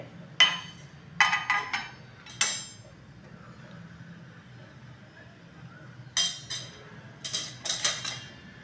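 Mustard seeds dropped into 1–2 tablespoons of hot oil in a pan for quick upma give sharp crackling bursts. They come in several short clusters with quiet gaps between them and are heard close up.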